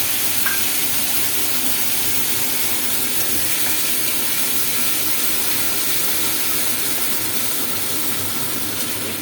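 Dried fish frying in oil in a pan, a steady loud sizzling hiss running unbroken and close throughout, with no talk.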